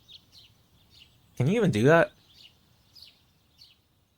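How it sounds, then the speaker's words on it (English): Birds chirping in the video game Mahoyo, faint short tweets scattered at intervals, with a brief spoken line in the middle. "I woke up to the sounds of birds chirping."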